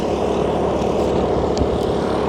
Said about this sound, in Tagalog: Palipad namin ng drone, guys.